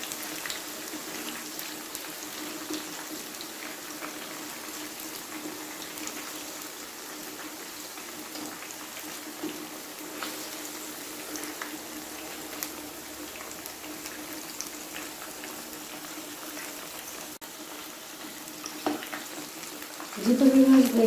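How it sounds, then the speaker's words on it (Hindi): Fish pieces frying in a pan for Lahori fish fry give a faint, steady sizzle and crackle with soft bubbling, continuous and quiet throughout, swelling slightly louder at the very end. "देखें फ़िश जो है वो अच्छे तरीके से फ्राई हो चुकी है।"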